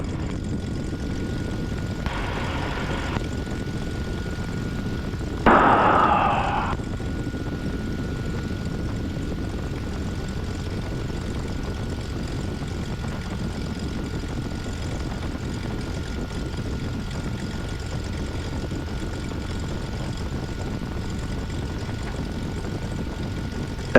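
Beechcraft Bonanza piston engine and propeller running steadily as a close, even drone through the whole stretch before takeoff, with a short burst of louder noise early on and no talk.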